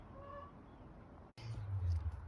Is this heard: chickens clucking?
yes